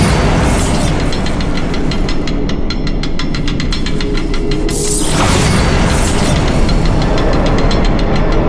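Bombarda spell blasts in the video game Hogwarts Legacy, a loud continuous rumble with repeated crackling bursts and a sweeping whoosh midway, with no voices.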